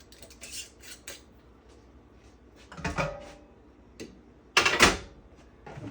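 Metal lid of a pressure canner set down and fitted into place, a few close clanks and scraping clatters spread across several seconds, with a louder metallic knock near the end.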